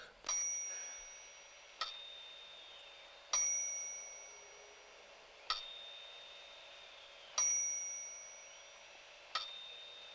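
A bell on a thought-controlled scoreboard in a telekinesis demonstration film rings six times at regular intervals of about two seconds. Each strike is sharp and clear, with a long ringing decay, and no voices are heard.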